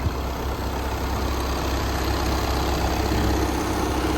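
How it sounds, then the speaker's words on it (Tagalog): An Audi Q3 diesel engine idles steadily and smoothly, a continuous low rumble heard up close with no talk over it. "Diesel engine siya pero sobrang pino ng tunog ng makina mga bossing"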